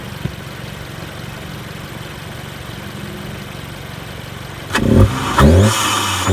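An Audi S3 fitted with an AFE Pro 5R cold air intake runs at a steady, close-miked idle hum, then gives a few sharp, loud revs near the end.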